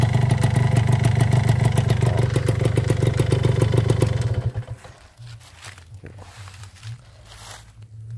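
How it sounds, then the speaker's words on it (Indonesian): Kawasaki Ninja R two-stroke motorcycle engine, with worn piston rings causing exhaust smoke, revving loudly and steadily up close for about four seconds, then dropping to a rough, quieter idle. "ini motor gampang sekali menyala ya hemat sekali bahan bakarnya"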